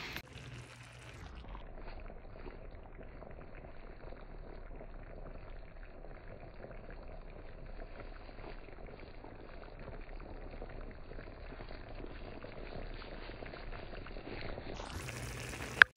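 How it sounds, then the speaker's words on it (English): Shrimp sizzle and bubble steadily in a pan of olive oil and hot honey, a continuous close frying hiss that holds even for about fifteen seconds with no talking. "saute them slightly in olive oil in this hot honey"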